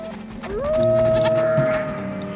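Goats and sheep in the farming game Going Medieval bleat in a drawn-out, wavering call over faint game ambience, with a second shorter bleat overlapping.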